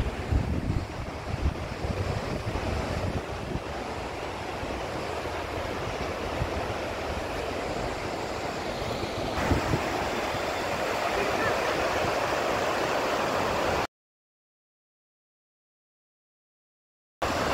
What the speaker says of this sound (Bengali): কতটা জলে মানে জল বয়ে যাচ্ছে স্পিডে, তার শব্দ।